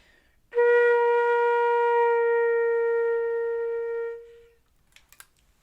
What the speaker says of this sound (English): gradually play softer